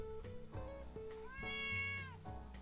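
A cat meows in a quick run of rising and falling calls, sounding close and somewhat agitated, with no one speaking.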